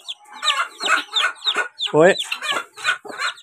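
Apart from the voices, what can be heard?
hen clucking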